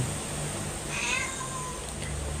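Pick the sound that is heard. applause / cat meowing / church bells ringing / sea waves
cat meowing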